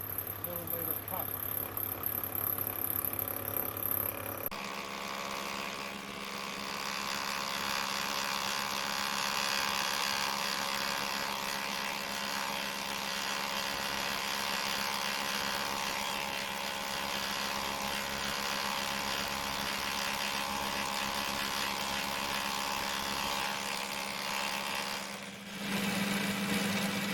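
Gingery milling machine taking a 1.3mm cut, a steady mechanical whir with tonal hum that continues evenly for over twenty seconds, shifting in character as the cut begins and ends.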